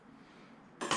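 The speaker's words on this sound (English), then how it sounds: "On goes the lid." A lid is set onto a metal camping cooking pot in a quiet setting, a short bright clink of metal on metal arriving near the end after near silence, with a second small rattle just after.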